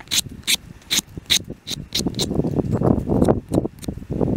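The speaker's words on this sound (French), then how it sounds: "Donc là je vais enlever l'écorce." Bark is stripped from a wooden branch outdoors with quick, close, rhythmic scraping strokes, roughly two per second, followed by a denser stretch of rough scraping.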